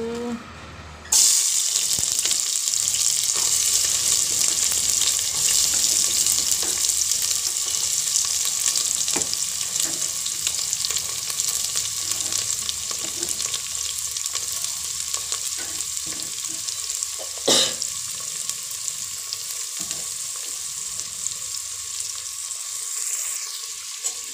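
Onions hit hot oil in a pan while pork trotter pickle is being made, setting off a loud, sudden sizzle that settles into a continuous close frying hiss with occasional clinks and pops throughout.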